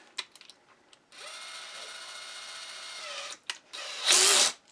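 A power drill bores holes into a closed wooden drawer. It whirs steadily at high speed for about two seconds, then stops, followed by a few clicks and a brief, harsher burst of drilling. The sound is close, with no voices.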